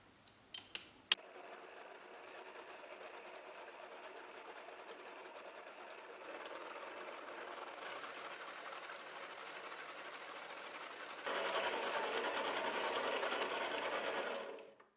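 Bread dough being kneaded in a mixer after water is added, a steady mechanical whirring drone that runs continuously and grows louder partway through, with a few clicks at the start.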